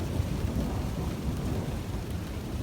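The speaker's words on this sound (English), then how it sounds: "Stop for a minute because it's raining." Steady heavy rain hissing down with a deep, continuous rumble of thunder underneath, dense and close throughout.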